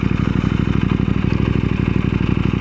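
KTM 890 SMT motorcycle engine running close and loud with a steady rhythmic pulsing thrum as the rider pulls the clutch and comes to a stop.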